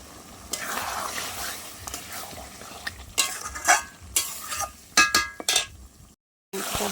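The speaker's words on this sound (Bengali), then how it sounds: "ভালো করে কষিয়ে নেব তো দেখো আমি টমেটোগুলো এখন দিয়ে দেবো" Goat meat with tomatoes sautéing in a pan, soft sizzle punctuated by sharp clinks and scrapes of a spoon against metal, ending in a brief silence.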